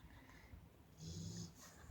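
A dog snoring softly while being given a massage, slow breathy snorts with a louder rasping snore near the end, close and quiet, no talking.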